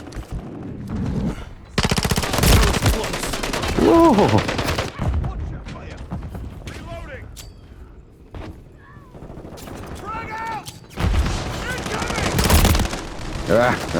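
Rapid automatic gunfire and shooting bursts in the Call of Duty Modern Warfare 3 video game, loud and repeated across the span with short pauses, under excited player voices calling out.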